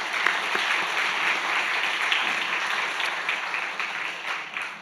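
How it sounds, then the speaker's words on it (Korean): A church congregation gives a sustained round of applause, dense and steady from many hands filling the room, fading slightly toward the end, with no voices over it. "우리 서로 격려 박수 한번 치겠습니다"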